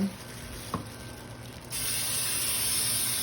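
Cold water from a kitchen tap running into a bowl in a home kitchen, a steady hissing rush that starts partway through after a faint clink, close and continuous.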